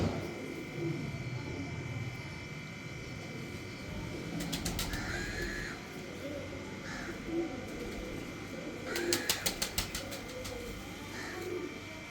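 Teddy pigeons coo softly in a loft, low murmuring calls under a steady background hum, with a few sharp bursts of wing flapping or clatter and a crow cawing off to the side.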